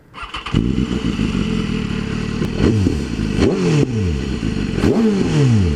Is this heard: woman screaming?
no